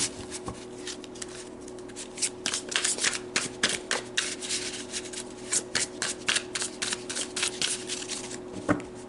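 Tarot cards are shuffled repeatedly up close, in quick riffling bursts and soft rubbing over a faint steady hum.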